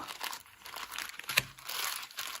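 Close, crackly crinkling of a plastic seed packet being handled, in uneven bursts with a sharp rustle midway.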